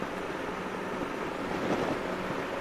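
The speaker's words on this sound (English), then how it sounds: "It is windy today." Strong wind buffets a microphone out on a long gravel road, a steady broadband roar with gusts swelling briefly near the end, loud and close with no other clear sounds.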